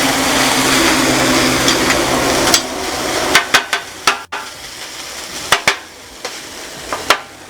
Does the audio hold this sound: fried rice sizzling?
yes